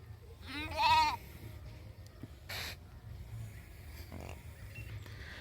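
A flock of about 500 sheep, large and young, gives one loud, close bleat, followed by faint rustling and a quieter distant bleat.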